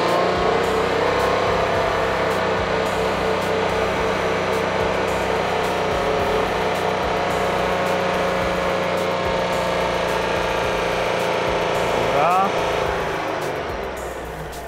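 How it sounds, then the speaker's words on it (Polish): A Skoda Fabia engine held at about 4000 rpm, a steady, loud, droning rev that stays constant for the whole stretch before easing slightly at the end, with no talk over it. "około 4000 obrotów, tak jak Skoda Fabia ma wgrany swój fabryczny ogranicznik"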